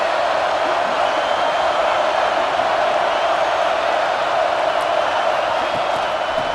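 A steady, dense roar from a big stadium crowd in the College Football 26 video game, with the FCS Northwest Stallions visiting the Oregon Ducks, holding at an even loud level throughout with no distinct cheers or breaks.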